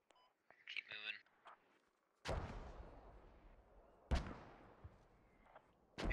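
Mortar rounds in the video game Squad land as three heavy, booming impacts, each trailing off in a long rumble. A brief, faint radio-like voice is heard before the first blast.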